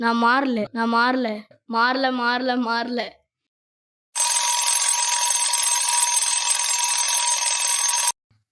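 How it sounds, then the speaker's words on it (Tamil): Two people talk briefly, then after a pause a loud, continuous electronic alarm rings steadily for about four seconds before cutting off. "அலாரம் வேற அடிக்குது."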